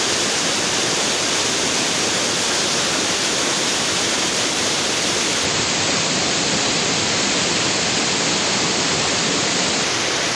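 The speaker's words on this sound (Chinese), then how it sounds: "对面就是哥坝瀑布" A waterfall seen from the viewing platform at the end of the Jiuliao River Trail roars as a loud, continuous broadband rush of falling water, steady and close, with no voices.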